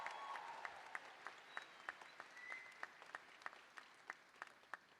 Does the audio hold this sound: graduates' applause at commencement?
yes